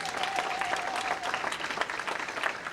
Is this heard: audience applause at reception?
yes